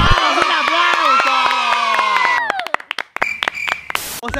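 A crowd of children cheers and shouts with whooping voices for about two and a half seconds, then breaks into scattered claps and bursts of shouting, loud and close, in a family setting after placing second in a Free Fire match.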